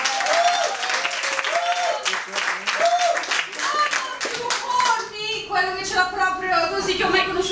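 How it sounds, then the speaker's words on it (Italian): An Italian audience gives a short round of clapping for the room's presenter, dense hand claps close by with a person talking and raised voices over it, the clapping thinning out toward the end. "volevo chiedere un piccolo applauso per il nostro presentatore della sala"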